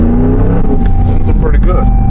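A Ram 1500 pickup truck fitted with a Pedal Commander accelerates, its engine giving a steady, close, loud low rumble with a slight rise in pitch. Someone talks over it throughout.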